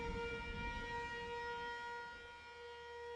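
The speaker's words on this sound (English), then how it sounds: "a low droning sound sounds across the wood like an actual storm siren used for tornadoes." A low, steady droning siren like a tornado storm warning wails on sustained tones, fairly faint and distant, with a soft rumble underneath.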